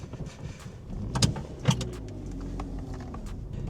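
Small, cheap car setting off to drive, with low engine rumble, a couple of sharp clunks and mechanical rattles near the start, then a steady engine hum.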